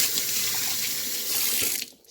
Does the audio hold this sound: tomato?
no